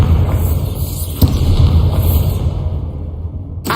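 A Bombarda explosion spell goes off in the Hogwarts Legacy video game, a loud booming blast with a whooshing rumble that fades into a quieter tail.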